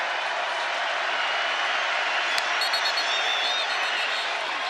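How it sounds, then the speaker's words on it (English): A Big 12 college football stadium crowd at a 2021 Texas Tech game roars steadily throughout, a dense, unbroken wash of cheering and noise with a sharp whistle-like blip partway through. "this crowd has really gotten into it"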